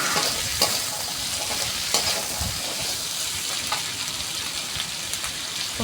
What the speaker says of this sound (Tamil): சுண்டைக்காயை சேர்த்து நல்லா வதக்கி விட்டுக்கணும்.